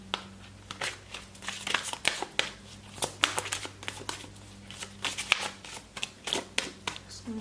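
Tarot cards shuffled and drawn from a deck at a pick-a-card love reading, with a steady run of soft papery riffles and crisp flicks close by, faint low hum beneath.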